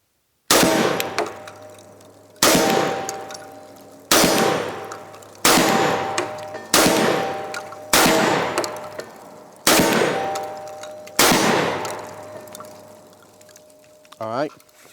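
A Beretta 1301 semi-automatic shotgun fires seven loud shots at roughly regular intervals, each a sharp blast with a ringing tail. A metallic clatter closes the sequence.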